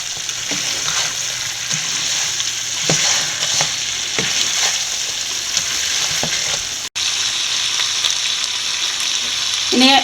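Rabbit stir-fry with ketchup stirred in a hot frying pan, steady sizzling and frying with repeated scraping stirs throughout, close and fairly loud, no talk.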